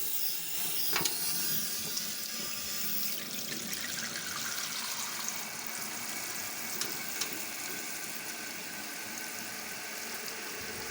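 Water rushes steadily into a toilet tank that has a newly replaced fill valve, a continuous close hiss and splash with no talking.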